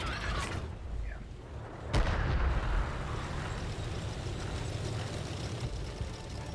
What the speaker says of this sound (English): He tries to take a blind shot to where he thinks I am